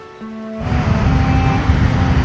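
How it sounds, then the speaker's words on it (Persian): Sea waves washing ashore at night, a steady broadband surf wash that swells in after a quiet start and rolls on continuously, fairly loud and close with no voices. "با موج دریا نگر"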